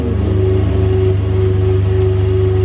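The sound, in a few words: 2017 Chevy Colorado engine cold start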